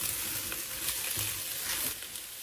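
Lentil soup base with bay leaves frying in a pot over lowered heat, a steady close hiss and crackle of sizzling with a few soft stirring bumps.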